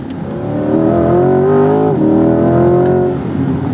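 A 2021 Chevrolet Corvette C8 Z51 accelerates hard, its engine note climbing loud and close, dipping at a gear change around two seconds in, then rising again before easing off.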